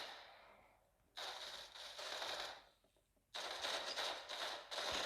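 Gunfire in the Roblox game Arsenal comes as two long bursts of rapid automatic shots, loud and sharp, separated by a brief quieter gap, with no talking.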